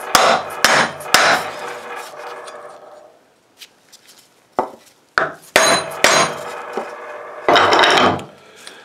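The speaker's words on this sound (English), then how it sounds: "just put your board over the top and" Hammer striking a wooden board laid over a trailer wheel bearing to drive it into the hub, a series of close, sharp knocks in irregular clusters with short pauses between.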